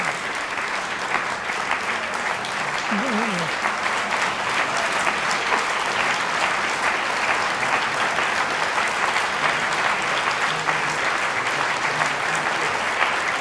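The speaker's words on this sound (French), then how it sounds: "je pense qu'elle mérite encore un grand applaudissement" Audience at a medical conference on heart, vessels and brain giving sustained, loud, even applause for over thirteen seconds, dense and continuous with a faint voice early on.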